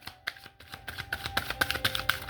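An angelic oracle card deck is shuffled in quick, irregular riffling bursts, close and crisp, the papery slaps growing busier and louder toward the end with no voices present.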